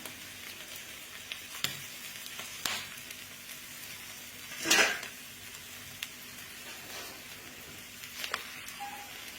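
Egg omelette frying in a pan over medium heat, a steady soft sizzle broken by several sharp utensil taps and one louder scraping burst near the middle.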